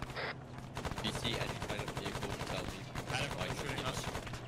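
Dense bursts of automatic gunfire crackle steadily from a military video game set on Malden, rapid and loud throughout, with faint radio chatter mixed beneath the shots.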